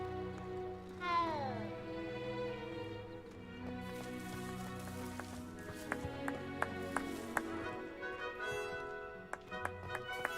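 A cat meows with a rising, drawn-out call in Hogwarts Legacy, heard over steady game music, followed by a run of light tapping sounds.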